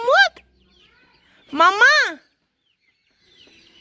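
A chicken gives two short, loud clucking calls close by with a pause between them, and a brief voice is heard near the start.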